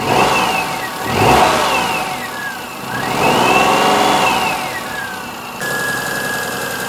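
A car's running engine, just after a cambelt change, carries a high whine from the power steering pump that rises and falls in pitch with the revs over a steady mid-range engine note, close up.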